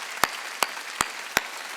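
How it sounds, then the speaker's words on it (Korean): Four loud, sharp claps land in a steady, evenly spaced rhythm from a congregation at a Wednesday church service. Each clap rings out clearly, with quiet gaps between them. "박수 치려면 세게 치라고 세게."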